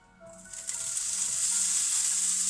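Bacon dropped into smoking-hot oil in a pan bursts into a loud, close sizzle that swells within a second and holds as a steady hiss.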